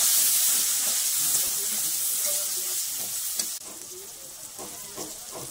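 Chopped tomato hits browned onions in a hot pan for a river crab curry, giving a loud, bright sizzle that softens suddenly and then crackles on under light stirring nearby, with no speech.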